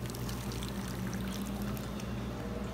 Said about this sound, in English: So I'm gonna pour my cashew milk.